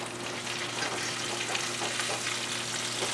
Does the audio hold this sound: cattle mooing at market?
no